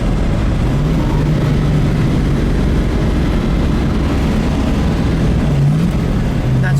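Continuous engine drone from a 1970 Ford Mustang Boss 429 cruising on an open road, a steady loud low rumble with faint tonal rises, heard from inside the car without talk.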